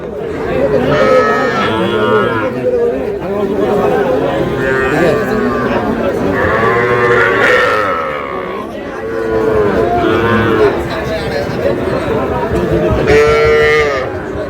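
A bull calf moos repeatedly and loudly nearby at a cattle market while people talk and chatter in the background.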